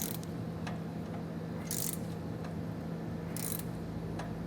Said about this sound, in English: come back with your torque wrench and get these completely tightened down as well